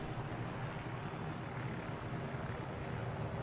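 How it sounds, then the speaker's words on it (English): Helicopter in the Arma 3 Dakar Rally game, a steady broadband engine and rotor drone holding at constant level throughout, fairly distant and without distinct blade chop. "A helicopter has crashed, ladies and gentlemen."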